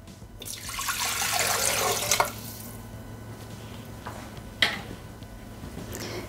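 Water pours into a Thermomix bowl with salt, pepper and bay leaves for baccalà with potatoes: a steady splashing rush that builds and lasts about two seconds, then quiet dripping and faint kitchen clatter.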